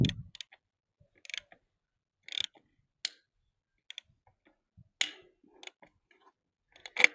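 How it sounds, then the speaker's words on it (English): A bicycle bottom bracket being threaded in gives sharp, irregular clicks, close and clear against near silence. They come singly or in quick pairs, spaced a second or so apart. "Not sure why that's clicking."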